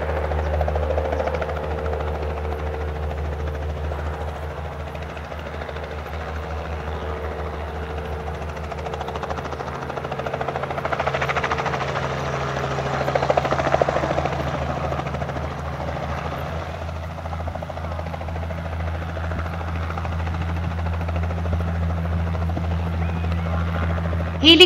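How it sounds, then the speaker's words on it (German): A helicopter drones steadily with a deep rotor thump and engine whine, growing louder midway as it passes close overhead, then holding a constant roar. "Der Hubschrauber fliegt sehr nah am Boden."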